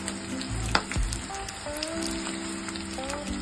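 Onion and chili sizzling in a pan for Nepali achar with sukuti, a steady crackling fry with a brief louder clatter near the start.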